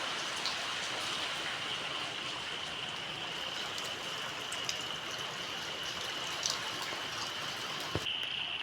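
Heavy rain pours down steadily outdoors, a dense, even hiss of falling drops and running water with a few sharper droplet ticks, continuous throughout and without voices.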